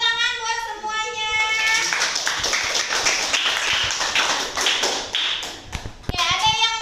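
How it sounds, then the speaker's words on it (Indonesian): Students in a classroom break into a few seconds of brisk, dense clapping, with voices speaking just before and after the applause. "Tepuk tangan buat semuanya."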